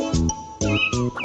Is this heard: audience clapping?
no